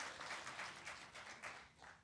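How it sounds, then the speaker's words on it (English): Audience applause at a city memorial observance honoring Martin Luther King Jr., a steady wash of clapping from a crowd that stays faint and distant throughout, with no talking over it. "another round of applause"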